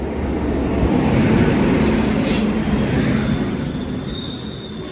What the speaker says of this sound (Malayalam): അങ്ങനെ രണ്ടാമത്തെ വണ്ടി ഇതാ ഓവർടേക്ക് ചെയ്ത് പോവുകയാണ്